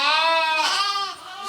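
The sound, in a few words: sheep bleating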